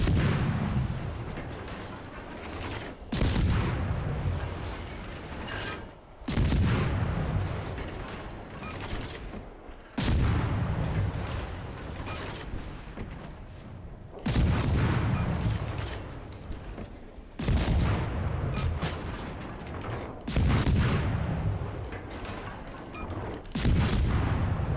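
Heavy naval guns firing in a warship video game, aimed at stationary enemy ships: loud booming salvos about every three to four seconds, each blast rolling into a rumbling decay before the next, with no voices.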